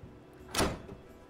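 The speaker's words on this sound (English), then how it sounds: "Bam! Door open." A brief door opening in the Minecraft Story Mode video game: a single soft whoosh-like swing lasting about half a second, faint against a quiet background.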